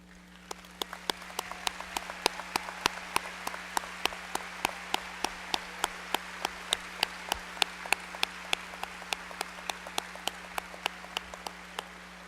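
Audience clapping at a 2018 Greene County Tech graduation ceremony honouring parents and guardians, heard as sparse, sharp, evenly spaced claps over a steady electrical hum rather than a full ovation.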